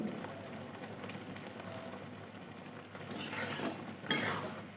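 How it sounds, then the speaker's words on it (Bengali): Sugar syrup with mihidana laddu grains boils hard on full heat, giving a close, continuous bubbling sizzle with stirring scrapes that swell louder toward the end. "আমার লাড্ডু মানে দানাগুলো ফুটছে"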